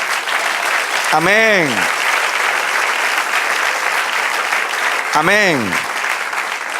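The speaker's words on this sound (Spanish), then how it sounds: "Den un aplauso al Señor." A church congregation bursts into steady, full applause that fills the room, while a preacher's voice twice calls out over the clapping.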